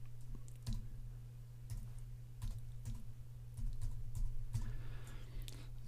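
Text typed on a computer keyboard in Photoshop Elements: scattered, close key clicks at an irregular pace over a steady low electrical hum, with a brief softer rustle near the end.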